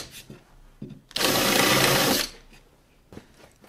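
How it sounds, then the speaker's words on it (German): Power drill running a Wolfcraft countersink bit into pre-drilled holes in wood, a single loud burst of whirring for about a second amid quiet shop handling noises. "Deswegen nehmen wir von Wolfkraft den Senker und senken die Löcher schnell an."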